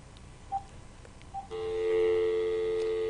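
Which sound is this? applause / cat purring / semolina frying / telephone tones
telephone tones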